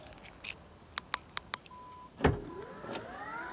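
A key fob unlocks the rear hatch of a BYD Atto 3, giving a few sharp clicks in a row, then a short mechanical latch clunk and a faint whirring actuator close by.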